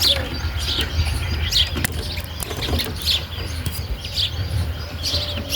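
Pigeon chicks chirp in a steady series of short, high peeps repeating roughly every half second, close by and over a low background rumble and faint rustling.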